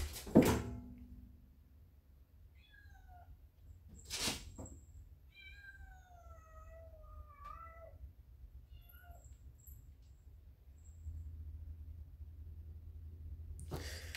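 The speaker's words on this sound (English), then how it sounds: "my cat's going crazy" A pet cat indoors gives a series of meows and warbling cries over several seconds, near and moderately clear, with a thump at the start and a bump partway through in an otherwise quiet room.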